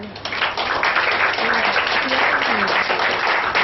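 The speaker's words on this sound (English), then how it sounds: "I would like you to give them a big clap." An audience claps for survivors of gender-based violence, steady applause throughout with some murmuring voices underneath.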